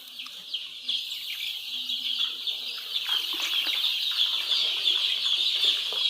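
A large flock of some 5,000 Sonali chickens clucks and chatters continuously in a poultry farm shed, a dense, steady din of overlapping bird calls with no talking.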